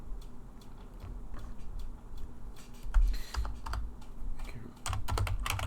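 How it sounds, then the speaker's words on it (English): Someone types on a computer keyboard, a quick irregular run of light clicks and taps with short pauses, close by and fairly quiet, with no talk. "If I type in king, emperor."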